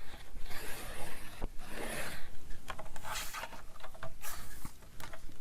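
Paper being scored on a Fiskars triple-track trimmer with its scoring tool, a series of close rasping, scratchy strokes that rise and fall in bursts.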